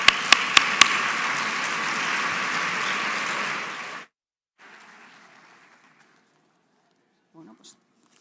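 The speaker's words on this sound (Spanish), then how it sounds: "Un fuerte aplauso para ellos, por favor." Audience applause at a diabetes patients' congress in Murcia, a steady broadband wash of clapping for about four seconds with a few sharp hand claps at the start, then fading to quieter room noise and brief talk.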